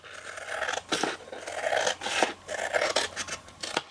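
Scissors or a blade trim excess tape from handmade Easter gift packaging, giving several short rasping, scraping cuts close to the mic, with no talk.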